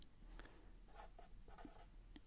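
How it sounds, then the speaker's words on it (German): Pen or chalk writing out an integral during a physics lecture on a rocket problem: a few faint, short scratchy strokes in irregular bursts over a quiet room hum. "ich schreibe das jetzt explizit hin"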